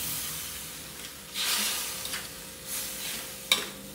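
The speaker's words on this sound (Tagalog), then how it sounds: "Lagyan natin tong tokwa. Haluin ulit natin." Tofu and bean sprouts stirred in a frying pan, with a soft hiss of frying under a few swishing stirring strokes and a sharp clink near the end.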